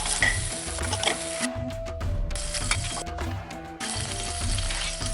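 Chicken sizzling loudly in a frying pan, a close crackling hiss that cuts out briefly twice and returns, with faint clinks of a utensil.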